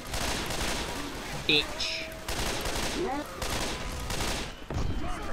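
Gunfire in the video game Left 4 Dead 2 crackles in repeated rapid bursts across the whole stretch, loud and dense, with a player's voice breaking in briefly.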